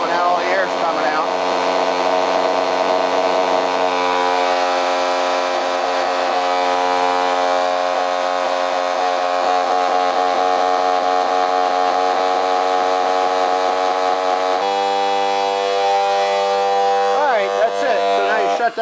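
A vacuum pump drawing air out of lost-wax casting investment runs with a steady, loud mechanical drone and harmonic whine, continuous, with a slight shift in pitch partway through.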